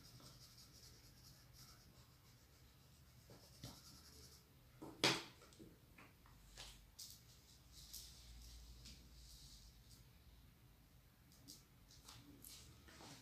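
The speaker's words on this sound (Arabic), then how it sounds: "نقوم بتلوينها" Pencil or crayon strokes scratch softly across a paper school worksheet, close and quiet, with one sharper, louder scrape partway through and a few lighter scribbles after it.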